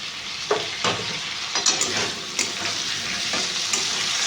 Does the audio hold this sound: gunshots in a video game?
no